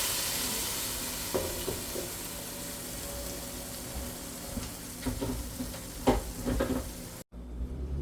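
A steady sizzle of mole de Michoacán and spices frying in a pot, with occasional stirring scrapes and clinks, ending abruptly.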